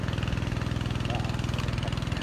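An engine-driven water pump draws water from a fish pond into a rice field, its motor chugging in a fast, even idle rhythm close by, with no talking over it.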